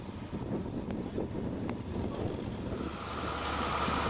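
Wind rushes and buffets across an open roadside work site in Los Cabos, Mexico, a steady rumbling gust against the microphone that swells louder toward the end, with no talking.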